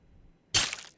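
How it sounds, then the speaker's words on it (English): Stabbing sound effect fired from a video game sequence: one sharp, crunching burst that hits hard and trails off within half a second after near silence. "The stabbing has begun"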